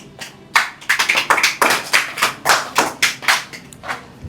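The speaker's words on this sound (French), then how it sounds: "Acclamez." A wedding congregation claps together in a quick, steady rhythm of close, sharp claps that swell and continue without pause. No one speaks over the applause.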